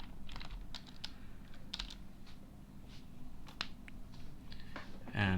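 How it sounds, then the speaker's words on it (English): Irregular bursts of clicky keystrokes on a computer keyboard, close by, with short pauses between the runs of tapping and a slightly louder clatter at the end. "you click here and you type in the first file"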